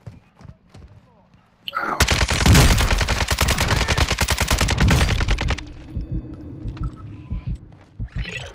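Loud, dense automatic gunfire in Warzone, the video game, bursts out after a quiet moment and rattles steadily for several seconds before giving way to scattered softer shots and movement, with a voice talking in the background.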